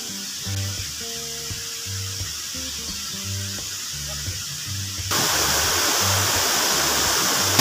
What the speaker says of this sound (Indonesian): Sana tuh air terjun guys.